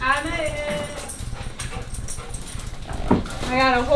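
Dogs whimper and yip at a family's return home to an RV, with high whining cries at the start and end and a short bark in between, mixed with people talking nearby.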